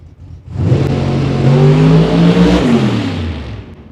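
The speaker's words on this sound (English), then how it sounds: "We'll watch and listen to what 900 cubic inches sounds like" A 900 cubic inch drag racing engine roars down the track at a Las Vegas drag strip, building from a low rumble into a loud, sustained rising howl that peaks midway and tapers off as the car moves away.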